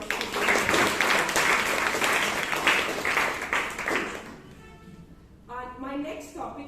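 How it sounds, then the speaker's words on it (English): Applause from an audience at a Toastmasters club meeting in Bangalore, sustained clapping for about four seconds that fades out, followed by a voice speaking. "So another round of applause."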